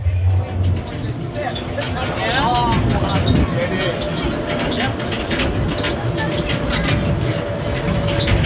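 A small tram runs on rails in Mazatlan with a steady rumble, a few brief wheel squeals, and surrounding crowd chatter throughout.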